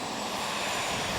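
NASA PTERA modular test aircraft with its engines running, a loud, steady broadband roar that fills the whole clip without a break and drowns out everything else nearby.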